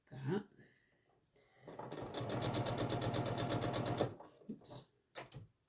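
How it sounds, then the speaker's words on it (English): A sewing machine stitches small fabric pieces in one steady burst of about two seconds, with a fast whirring rhythm heard close up. Brief speech comes before and after it. "So I'm not going to sew over my pin"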